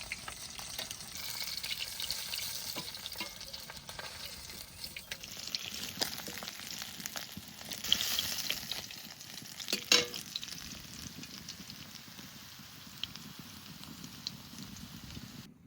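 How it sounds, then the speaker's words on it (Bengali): Fish frying crisp in oil in a pan for a village-style fish curry, a quiet continuous sizzle with occasional clinks and scrapes of a utensil, close by and without talk. "সুন্দর করে মাছগুলো ভেজে নিয়েছি, একটু কড়া ভাজাই দিয়েছি"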